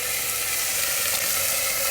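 Soaked moong dal sizzles steadily and loudly as it is sautéed in a hot pan, a dense, continuous frying hiss with no voices.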